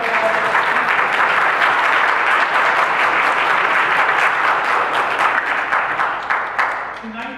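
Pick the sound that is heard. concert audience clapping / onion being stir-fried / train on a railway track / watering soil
concert audience clapping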